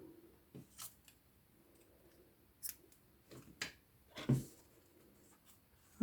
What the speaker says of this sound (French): Et je vais couper le fil.